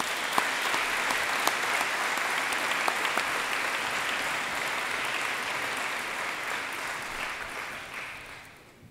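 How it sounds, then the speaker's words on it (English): An audience claps steadily at the Columbus Grove High School commencement, a dense, sustained round of applause from a large crowd that fades out toward the end. "please join me in a round of applause for those individuals"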